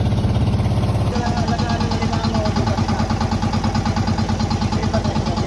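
A fishing boat engine starts and chugs loudly and close by in a fast, steady rhythm, its pitch shifting slightly after the first second.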